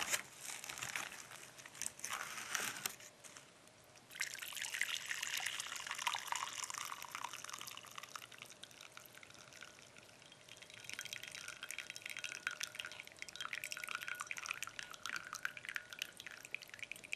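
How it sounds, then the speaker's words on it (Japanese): Hot water pours out of a Myojo Ippei-chan instant yakisoba cup through the lid's drain holes, a continuous close trickle and splash into a sink with faint crinkling of the container, without talk. "3分経ったのでお湯を捨てます。"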